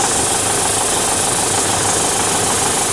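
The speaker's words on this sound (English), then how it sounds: "it can draw enough air at idle through this device to enable the engine to run" A diesel engine idles during intake system cleaning, drawing air through a cleaning device. It gives a loud, steady, close-up rumble with a continuous knocking clatter and no break.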